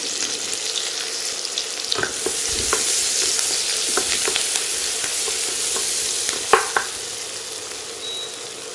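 Onions, green chili and curry leaves fry in hot oil for an egg pepper fry, a steady close sizzle with occasional stirring scrapes and a sharper clink near the end, no talking.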